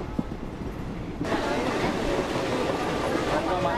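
A Konkan Railway passenger train runs along the track, a steady broad rumble that swells louder after the first second and holds constant.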